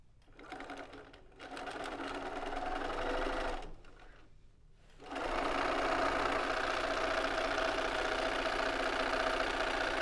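A sewing machine runs close by stitching a quarter-inch quilting seam, its motor humming in a steady buzzing drone through two short runs, a brief stop, then one longer continuous run.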